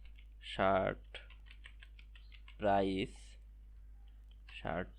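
Keys clack as JavaScript code is typed on a computer keyboard, a light scattered run of clicks between three bursts of nearby talk.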